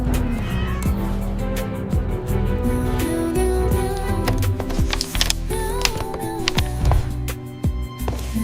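Kitten meows ring out over a dense backdrop of music, with several short mewing calls scattered through the passage and clicky tapping in between.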